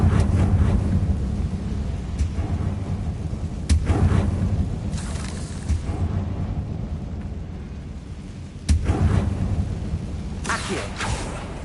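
Confringo spell blasts in Hogwarts Legacy, several booming bursts spaced a few seconds apart over a continuous low rumble, loud and close.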